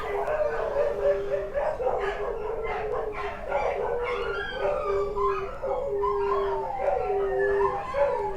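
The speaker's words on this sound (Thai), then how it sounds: "โอ้หมาเห่าเว้ย" A dog howling and yipping close by, drawn-out wavering howls mixed with short whimpering barks, loud and continuous over several seconds.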